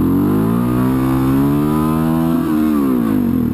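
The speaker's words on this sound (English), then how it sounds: "you'll start chasing it out and chasing it out further and further and further up until you're hitting rev limiter like this" A motorcycle engine, ridden for wheelies, revs steadily higher to the rev limiter, a loud, close, rising whine that hits the limit and bounces before dropping slightly.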